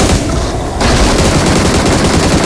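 Rapid automatic rifle fire from the mobile battle royale game PUBG Mobile, a loud continuous burst of shots with dense punchy rhythm, preceded by a brief quieter moment before the volley kicks in.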